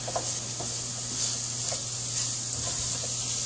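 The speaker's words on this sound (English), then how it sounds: "then we're going to stir in the peppers. See the stirring action going on?" Colorful peppers being stirred into a hot frying pan, with a steady sizzle and hiss and soft scraping taps from the stirring, close and continuous over a low hum.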